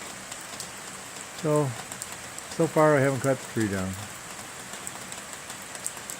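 Steady rain falls through a wet Saturday morning in Michigan, a constant hiss of drops under a man's brief, calm talk, continuing alone before and after he speaks.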